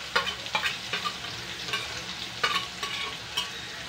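Chopped onion with green chillies frying in hot oil in a pan, stirred with a spoon for an Indian upma recipe: steady soft sizzle broken by repeated scraping stir strokes, close and moderately quiet, no voices.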